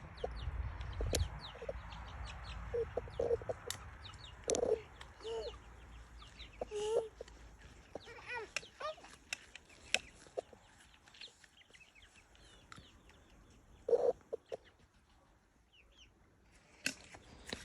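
Young chickens cluck and peep while pecking at feed in a farmyard, with scattered short calls that come and go at moderate distance over a quiet outdoor background.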